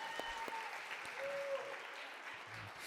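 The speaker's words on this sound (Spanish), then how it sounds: "Un aplauso." Church congregation applauding after a prayer in a Spanish-language service, a soft, distant wash of clapping heard faintly in a reverberant hall with low background noise.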